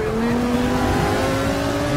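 Race car engine in Forza 6 droning at steady high revs, with a sustained rising tonal whine, loud and continuous, with faint road and tyre noise beneath.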